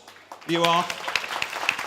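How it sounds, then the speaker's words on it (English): Scattered audience clapping for a quiz winner at an event catering talk begins partway in and continues briefly, with someone speaking over its start. "Round of applause."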